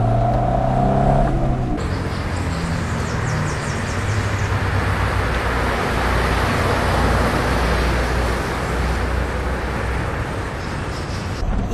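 A Honda Civic Del Sol VTEC engine revs hard above 4,500 rpm, a loud, sustained roar that climbs after a brief lower note at the start and holds strong throughout with no talking.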